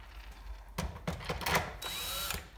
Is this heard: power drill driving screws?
yes